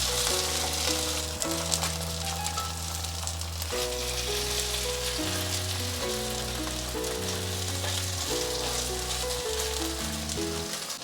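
A pancake frying in a pan just after being flipped, a steady bright sizzle under a loud musical backdrop, continuous with no talking.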